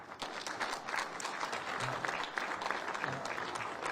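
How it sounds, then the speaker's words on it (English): An audience at a city of Flint public update on ARPA funding applauds with steady, sustained clapping from a moderate distance, fairly even in level throughout, with a faint trace of voices mixed into the crowd. "Give them a round of applause."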